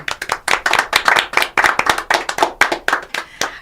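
A studio audience claps loudly and close to welcome performers onto a music show, a brisk, dense patter of many hands that carries on without a break; no one speaks.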